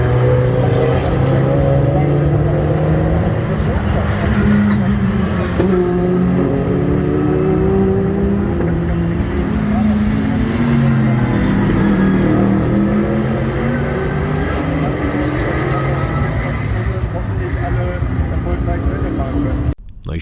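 Touring race cars of different years, including DTM cars, racing at a circuit, heard as a loud, continuous engine roar with rising and falling revs as cars pass. A voice talks throughout.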